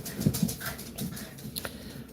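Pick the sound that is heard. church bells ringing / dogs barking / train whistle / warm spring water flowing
dogs barking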